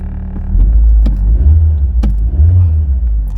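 Mitsubishi Lancer engine cranking and catching, a loud low rumble settling into a steady idle, with a couple of sharp clicks or key jingles over it.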